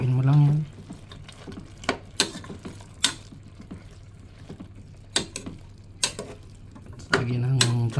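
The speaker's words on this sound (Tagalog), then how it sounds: "Haluin mo lang yan." Papaya pieces stirred in a pot of Filipino tinola chicken soup, with sharp scraping clinks of a utensil against the pot at irregular intervals under a low hum, and a voice talking briefly at the start and end.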